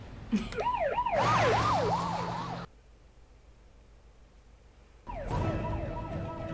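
A wailing electronic siren sweeps up and down, cuts off abruptly into near silence, then starts again a few seconds later.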